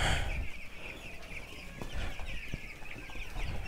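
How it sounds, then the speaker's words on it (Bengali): Fourteen-day-old broiler chickens feeding in a cold shed cluck and chirp faintly, with a continuous soft murmur of the flock and a few sharper calls over a low background rumble. "মুরগিরা খাবার খাচ্ছে এখানে।"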